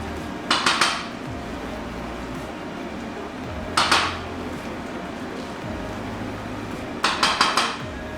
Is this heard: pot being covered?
yes